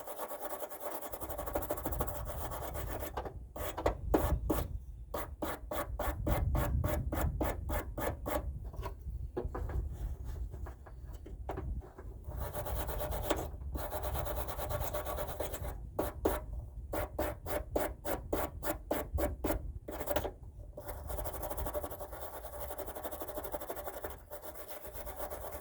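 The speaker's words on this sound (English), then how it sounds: "Wire brush, stainless steel wire brush," A stainless steel wire brush scrubs a surface on a Ford F250, giving a close, harsh rasping in rhythmic back-and-forth strokes, broken by a few quick staccato bursts and short pauses, with no voices.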